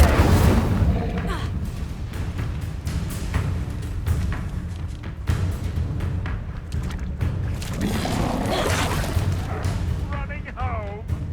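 A fiery Incendio spell cast in Hogwarts Legacy erupts in repeated booming bursts amid dense combat effects, with a voice calling out over the continuous loud game noise.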